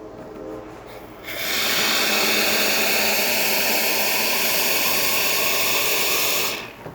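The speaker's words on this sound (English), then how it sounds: "And then lastly, we're going to test the hot water." A Profitec P500 espresso machine dispenses hot water with a sudden, loud rushing hiss that starts after a quieter moment, holds steady for several seconds, then cuts off; no talking.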